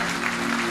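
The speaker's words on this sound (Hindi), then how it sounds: "एक बार भगत जी के लिए जोरदार तालियां बजाएं।" Audience at a Hindu jagran gathering claps for Bhagat ji, a brief burst of dense crowd applause with a steady low hum underneath.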